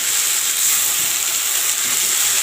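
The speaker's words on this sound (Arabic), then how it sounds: "سمعين الشخلله بتاعت الرز" Steady, loud sizzling and crackling hiss of old local rice frying in ghee in a pot, continuous and close with no pauses, the grains rustling throughout.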